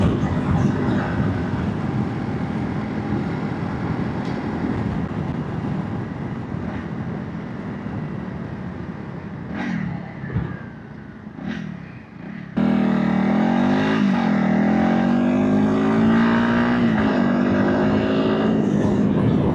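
A 2025 Honda CRF300 Rally single-cylinder motorcycle idles with a rough, close rumble. After a brief dip the engine is opened up and pulls away, its note rising loudly through the revs as it accelerates.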